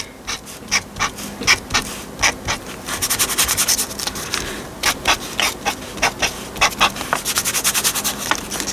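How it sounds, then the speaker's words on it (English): Paper being wiped and rubbed to rough up paint for handmade ephemera, a run of short, close, dry scuffing strokes in an uneven rhythm, faster near the end, with no talk. "We could grunge it out a little bit by wiping it off."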